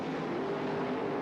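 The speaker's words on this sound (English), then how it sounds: "Both cars smoking the tires" Funny car drag racers at the 1979 NHRA Gatornationals spin and smoke their tires, a steady, distant engine roar with a faint tonal whine, heard briefly and fairly quietly without talk.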